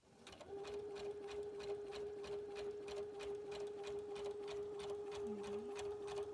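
A new Brother Innovis NV1100 sewing machine runs a basic stitch, its fast, even mechanical ticking and steady hum continuing at moderate volume from start to finish.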